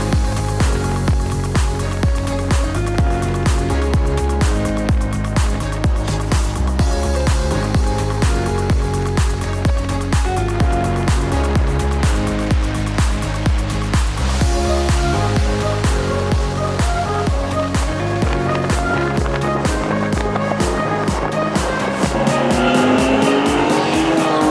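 A Ferrari 599 supercar driven hard with rapid downshifts, its engine roaring loud and close throughout, revs climbing and dropping in quick repeated bursts with some tire noise.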